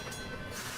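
A short burst of a train-themed attack effect from the SaGa Magical Train skill in a video game, a dense rushing rumble lasting under a second with no talk over it.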